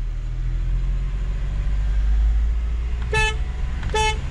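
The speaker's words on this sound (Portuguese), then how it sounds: "Buzina." Two short car horn honks sound about a second apart over a steady low engine rumble, close and loud.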